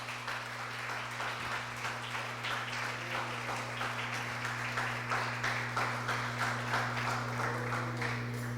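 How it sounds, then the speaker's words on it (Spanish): A church congregation applauds steadily through a Sunday service, the clapping dense and sustained from start to finish over a constant low electrical hum. "déle fuerte palmas al que vive"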